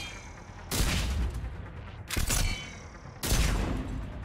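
A disc launcher gun firing in the video game Mass Effect 3: three loud, separate discharges about a second apart, each a sharp broadband blast with a short ringing tail, with no talking.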